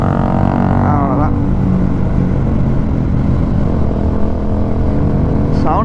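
Modified motorcycle exhaust roaring loudly and steadily on an early Sunday morning group ride, a continuous close engine drone with brief revving swells near the start and end.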